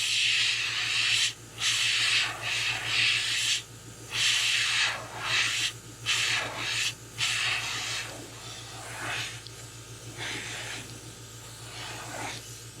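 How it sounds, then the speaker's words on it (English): An airbrush sprays paint onto a crankbait fishing lure in short hissing bursts of varying length, close and steady, with brief pauses between passes. "I've loaded up 4 airbrushes here"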